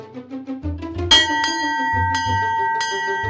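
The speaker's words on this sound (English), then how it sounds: "This bell is from 1727. It was used to make the auction officially known in the city of Stockholm from the very beginning." An antique auction bell from 1727, used by a Stockholm auction house, rings out with four or five clear, loud strikes. Each strike leaves a long shimmering tone that lingers over a low background hum.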